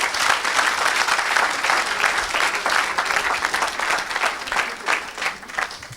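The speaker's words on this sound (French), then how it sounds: "Acclame encore pour Jésus-Christ." A church congregation applauds loudly and steadily for the full six seconds, the dense clapping swelling and easing slightly in waves with no talk over it.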